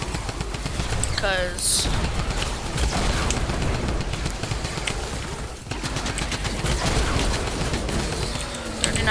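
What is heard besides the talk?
Typewriter gun firing in Fortnite Save the World video game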